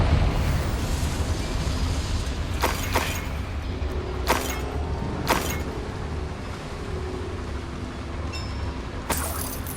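Several sharp blasts from the Confringo fire spell in Hogwarts Legacy inside a goblin cave, four or five distinct cracks spread over a rumbling mechanical background, fairly close and loud, with no talk.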